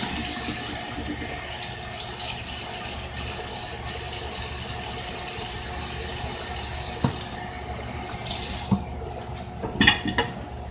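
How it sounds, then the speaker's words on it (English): Tap water runs steadily into a sink while a cutting board is washed, a loud continuous gush that stops near the end, followed by a few brief clattering knocks. "I'm going to wash this cutting board heavily."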